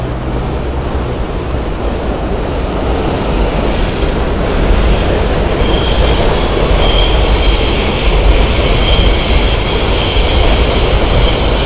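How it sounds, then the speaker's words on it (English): A train passes close by on the tracks, a loud rolling rumble that swells as high wheel squeals ring out and persist over the steady roar. "Do you hear me over the train?"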